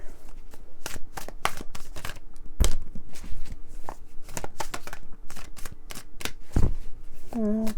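Cards are shuffled repeatedly in quick, crisp riffling bursts and taps, close and loud, with a brief voice at the very end.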